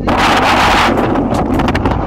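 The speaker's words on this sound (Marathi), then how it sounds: "वारा बघा इथे छान सुटलाय." Strong sea wind blows along the shore near Kolaba fort and buffets the microphone with loud, continuous roaring gusts.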